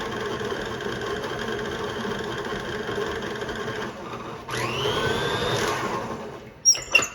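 An electric mixer hums steadily as it beats cupcake batter for black bottom cupcakes after an egg is added, its pitch rising and whining as the speed changes, followed by a couple of sharp knocks.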